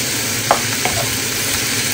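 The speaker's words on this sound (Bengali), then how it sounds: "তারপরে হলুদ দিয়ে একটু ভাজার পরে আমি দিয়ে দিব সামান্য জিরা গুঁড়া ধনিয়া গুঁড়া" Spices frying with turmeric in an oiled pan give a steady, close broadband sizzle, with a few soft stirring clicks and scrapes over roughly two seconds and no voices.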